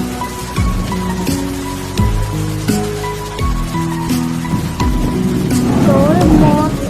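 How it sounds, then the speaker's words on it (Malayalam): Heavy rain pours outdoors in Punalur town, a dense steady wash of falling water that swells toward the end, mixed with other tonal background sounds and scattered knocks. "പുറത്ത് പെരുമഴയെ ഗൈസ്, ഒന്നും കാണാൻ പറ്റുന്നില്ല."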